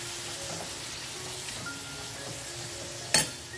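Onion and chopped tomatoes fry on a high flame, giving a steady, soft sizzle throughout with a brief sharp clink of utensil against the pan near the end.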